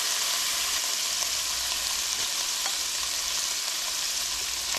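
Pulled pork for a chili chars and fries in a pan, giving a steady, even sizzle with occasional faint pops, close and continuous, with no talk.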